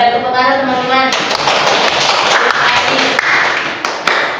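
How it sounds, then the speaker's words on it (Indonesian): Schoolchildren in a classroom clap together in a loud, brisk, slightly uneven burst lasting several seconds, beginning as a voice is still speaking and then continuing on its own. "silakan duduk Mbak Mel, tepuk tangan teman-teman."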